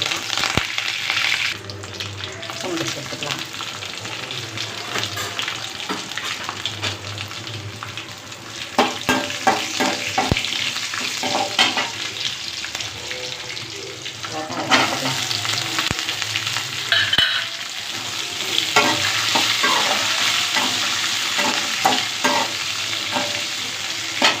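Mustard seeds, urad dal and curry leaves sizzle and crackle steadily in hot oil for a peanut and bottle gourd kootu, with scattered sharp pops and stirring scrapes throughout, fairly close and loud, with no talk.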